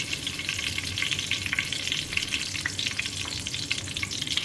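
Fenugreek seeds and torn bay leaves fry in hot oil, a loud, steady crackling sizzle with dense popping spatter, close and continuous for a few seconds.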